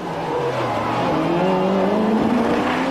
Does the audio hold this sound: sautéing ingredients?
no